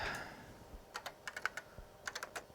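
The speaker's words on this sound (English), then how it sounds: "these are nice little keyboards too that they have on the P70" Keys clack on an IBM PS/2 P70 portable computer's keyboard in quick irregular bursts of crisp taps, close and clear in a quiet room.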